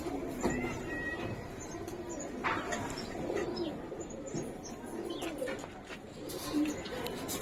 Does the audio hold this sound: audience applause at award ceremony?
no